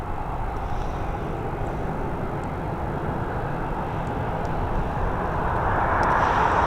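A fixed-wing airliner takes off from Dublin Airport, its engine roar broad and steady, swelling slightly louder toward the end, heard from a distance with no one talking.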